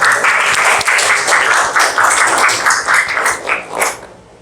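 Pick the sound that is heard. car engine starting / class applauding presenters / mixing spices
class applauding presenters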